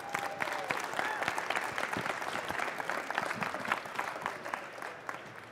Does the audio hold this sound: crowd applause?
yes